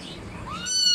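A wet cat just out of a bath gives a single rising meow, brief and fairly close, over faint background noise.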